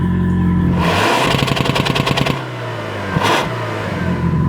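Loud 4-cylinder turbo engine of a 2024 Toyota Prado revving hard off-road, with a rapid burst of pulsing revs, a drop back to idle, then a short second rev before settling.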